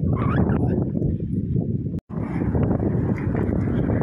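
Steady wind buffets the microphone with a low roaring rumble, briefly cutting out for a moment before roaring on.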